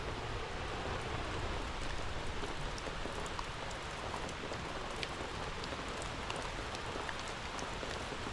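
Steady, heavy rain during the rainy Christmas season, a dense, even hiss of falling water with scattered distinct drops that continues unchanged throughout.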